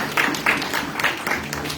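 A church congregation applauds the Lord, with rhythmic clapping of a crowd filling a short stretch, several beats in steady succession and no voice on top.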